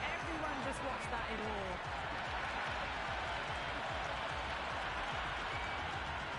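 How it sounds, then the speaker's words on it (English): Dense, steady crowd roar fills a cricket ground in a Cricket 26 T20 warm-up match between India and South Africa in Mumbai, a continuous noisy wash with scattered cheers and claps, no lull throughout. "the crowd have joined the party. It's pretty noisy at the ground"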